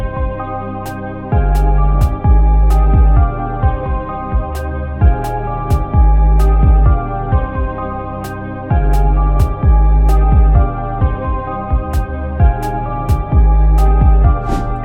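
A dark trap melody loop made with stock plugins, now with drums: booming 808 bass hits and sharp hi-hat and snare ticks in a bouncing pattern over the sustained melodic chords, loud and even.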